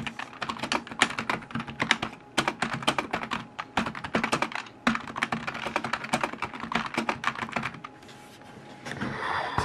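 Steady, close typing on a thrifted PS/2 keyboard from the IBM Model M line fitted with standard rubber caps, a dense run of muted key clatter with a few short pauses and no voice.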